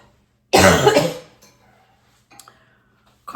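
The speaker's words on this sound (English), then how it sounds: "Coughing is getting a little bit worse." A single harsh cough burst up close, followed by quiet room sounds and a few faint clicks.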